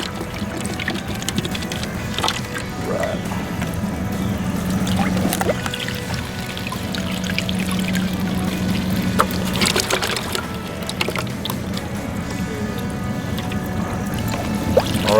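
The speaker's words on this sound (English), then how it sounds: "pour it in there, and then we're going to put 4 parts of water in" Water poured into a boat's live well mixed with fish dye, a continuous splashing pour with trickling and some knocks on the hull, close by, with a brief spoken word.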